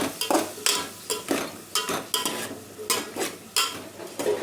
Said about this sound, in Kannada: ಈಗ ಮಶ್ರೂಮು ತೊಳ್ಕೊಂಡು ಇಟ್ಕೊಂಡಿದ್ದೀನಿ ಕ್ಲೀನಾಗಿ ಅದನ್ನ ಆ್ಯಡ್ ಮಾಡ್ಕೊಳ್ಳೋಣ